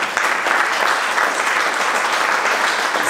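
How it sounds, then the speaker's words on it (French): A crowd applauds warmly at a dance show evening honoring bachata performers, dense continuous clapping, loud and even from start to finish with little else audible. "Je vous demande encore de les applaudir très fort."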